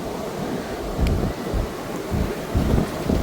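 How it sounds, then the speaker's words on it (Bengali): Waves surging in one after another on a beach, a steady broad roar with low rumbling swells rising at regular intervals, loud and continuous with no voices. "ঢেউ আসতেছে মুভ করতেছে"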